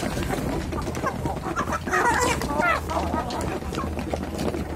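Chickens cluck and squawk busily while being fed at a home farm, with several birds calling close by amid a steady background hum, and people talking over them.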